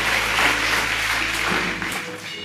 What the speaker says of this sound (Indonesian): kasih tepuk tangannya paling meriah